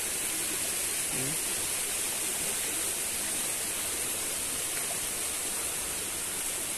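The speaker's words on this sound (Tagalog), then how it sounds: "Ang presko ng tubig oh." Cold water flowing through a stream in farm fields, heard as a constant, broadband rushing wash, close and steady for the whole stretch with no breaks.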